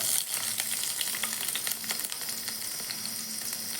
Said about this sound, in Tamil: கடுகு வடித்ததுக்கப்புறம் தட்டி வச்சுருக்கிற பூண்டியும் இஞ்சியும் சேர்த்துக்கலாம்